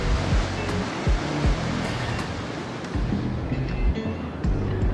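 Ocean water churning far below a cruise ship at sea, a steady broad rushing wash with periodic low swells and wind, heard alone.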